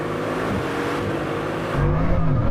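Two Bugatti Chiron hypercars, a Pur Sport and a Super Sport, accelerate hard from a 10 mph rolling start, a loud sustained engine roar that deepens and swells near the end.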